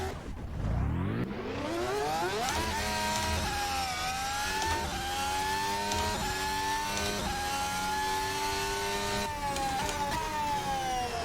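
A McLaren Formula 1 car in Assetto Corsa: a high-pitched engine screams up through the gears, each shift dipping the whine before it climbs again, loud and close throughout.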